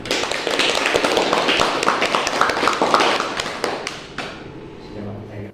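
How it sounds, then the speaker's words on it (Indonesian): Students clapping hands together in a classroom, a burst of sharp overlapping claps that holds for several seconds, then tapers off into a few scattered claps and a low hum. "Tepuk tangan."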